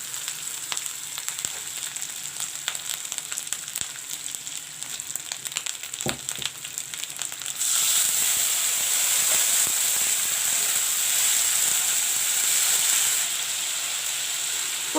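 Dhania and rye paste sizzles in hot oil, a crackly close frying hiss that jumps to a louder, denser sizzle about halfway through and holds steady, with no one talking.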